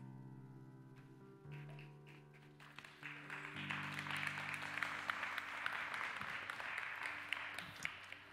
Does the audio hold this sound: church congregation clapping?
yes